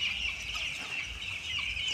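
Broiler chickens on a poultry farm cluck and chatter in a steady, busy flock murmur, with no voices over it.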